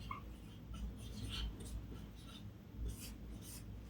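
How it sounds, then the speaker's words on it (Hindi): Quiet, scratchy strokes of a heading being written on a board or page during a class-8 maths lesson, a few short scrapes heard alone. "यहाँ पर क्लास लिख सकते हैं"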